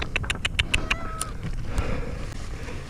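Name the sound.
cat meowing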